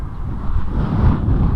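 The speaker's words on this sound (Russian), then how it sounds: "Тут ветер." Outdoor wind buffets a microphone in a rural village, a continuous loud low rumble with gusty swells and no voices.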